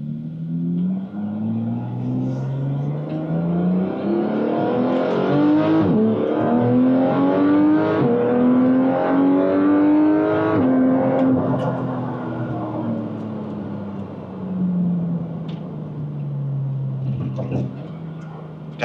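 A 2016 Porsche GT3 RS in GT Silver accelerates, its engine climbing and shifting through gears in rising and falling sweeps. The sound is heard from inside the car, loud and close, and then eases off toward the end.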